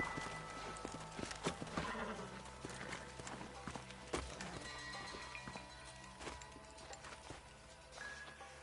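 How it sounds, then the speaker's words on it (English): Horse hooves in Red Dead Redemption on PS5 clip-clop steadily at a trot, with occasional whinnies over a busy outdoor ambience and faint voices. "Let's hold up a minute and find a spot for our horses."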